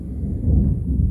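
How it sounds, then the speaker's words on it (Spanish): Thunder rumbles through a rainstorm, a heavy low roll that stays loud and steady for the whole moment, close and without any voices. "Oigan esos truenos."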